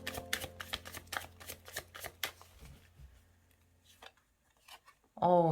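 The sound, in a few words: tarot cards being drawn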